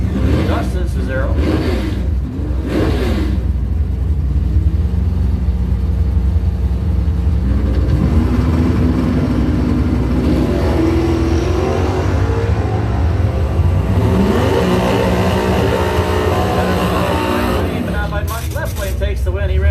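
Chevrolet Nova doorslammer drag cars, including a 1972 Nova RS Rally Sport, racing down the strip: loud engines rise and shift in pitch through gear changes, with an announcer talking over the roar.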